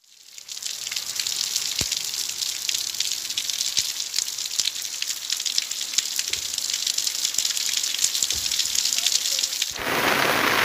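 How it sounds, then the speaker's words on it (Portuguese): Rain falls steadily on a car during an outdoor film shoot, a dense hiss of drops with scattered sharper taps on the body, heard close from inside the vehicle and rising slightly toward the end. "Estávamos gravando uma cena, começou a chover."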